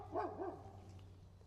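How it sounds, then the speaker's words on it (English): Dog barks at a goat farm in Maine, two or three short barks close together near the start, then fading into a steady low hum and quiet background. "We have crazy birds and dogs barking"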